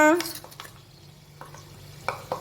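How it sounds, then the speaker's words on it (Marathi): A tempering of oil with asafoetida and turmeric sizzles softly after the flame is switched off, with a few light stirring clicks. A brief voice is heard at the start. "अतिशय चमचमीत अशी ही चरचरीत हिंग घातलेली हळद घातलेली अशी ही फोडणी"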